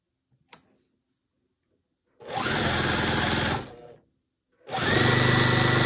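A sewing machine stitching quilt block pieces for a barn star sampler quilt, running in two loud, steady bursts of rapid mechanical whirring separated by a pause, with a faint click before the first run.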